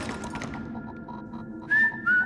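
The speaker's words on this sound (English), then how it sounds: "I heard what sounded like someone whistling." Two short whistled notes, a sustained tone then a rising one, ring out at night in an empty spa hallway, clear above a low, quiet room hum.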